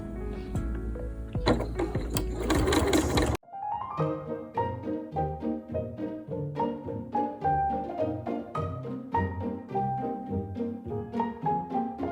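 A sewing machine stitches a skirt hem: a noisy mechanical burst gives way to a quick, regular run of rattling needle strokes, close and steady.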